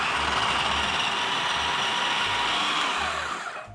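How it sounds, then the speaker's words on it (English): Food processor whirring steadily as it cuts cubed Kerrygold butter into flour and salt, a continuous loud motor drone with rattling blades and faint low pulses, winding down at the end; no talking. "I'm going to process it until large crumbs form."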